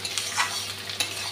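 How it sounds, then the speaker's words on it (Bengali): Chopped tomato and onion frying in oil in a pan, a steady close sizzle with brief scraping stirs of the spatula, no voices. "টমেটোটাও ভেজে নিচ্ছি পেঁয়াজের সঙ্গে।"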